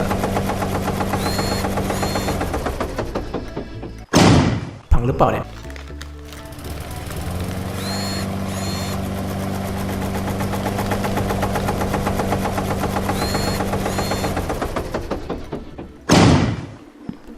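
A boat engine starts up in a vegetable farming video game, bursting into a loud rattling, knocking idle that runs steadily with brief sputters and restarts, while a voice speaks over it.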